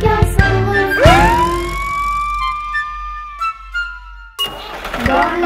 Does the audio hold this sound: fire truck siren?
yes